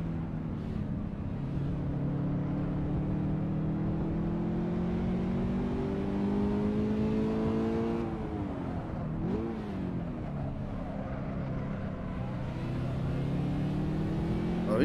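A GTR in the Assetto Corsa racing game roars steadily on the Akina Downhill, its engine revving loud and close, the pitch climbing, dipping sharply while drifting, then rising again.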